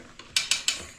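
A Rabaconda tire changer is cranked on a Kawasaki Z400 motorcycle rim, giving three or four quick, close metallic ratchet clicks in a fast even rhythm.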